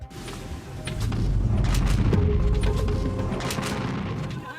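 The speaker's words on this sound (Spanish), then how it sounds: "Una explosión en medio de aguas del Golfo Pérsico." Explosion aboard a tanker ship in the Persian Gulf, a deep rumbling boom swelling after a second and rolling on with crackling, thudding bursts before easing off.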